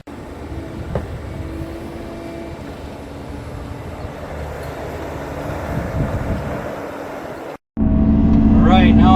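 An excavator works on a farm, pulling dry clay onto a pond dam and packing it down, its engine droning steadily with clanks and scraping, then cutting out briefly before a louder engine roar resumes.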